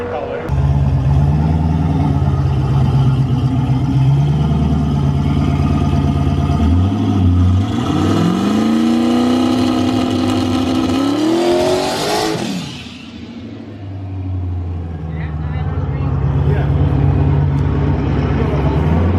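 Turbocharged G-Body race car engine at a drag track, revving hard with a rising pitch sweep and then settling back to a loud idle, close by and continuous, with a voice talking over it.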